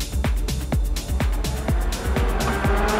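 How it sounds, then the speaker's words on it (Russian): Drift cars, a Toyota Mark 2 and a rival car, slide through a competition drift run, engines revving in rapid repeated surges with tire squeal, loud and close, rhythmic bursts about every half second. "И мы еще раз с вами посмотрим вот этот кайфовый дрифт. Марк 2 и фланкер F."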